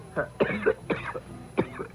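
Several short, rough coughs in quick succession, close and fairly loud, with a throat-clearing quality between them.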